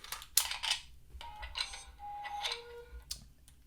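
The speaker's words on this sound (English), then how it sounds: "So when you put your magazine in, you're going to hear a clip in, clip out sound." A custom Jyn Erso A180 blaster prop produces short electronic clip-in and clip-out effects as its removable magazine is inserted. The clicks and chimes are faint and come in a few separate bursts, with quiet gaps between them.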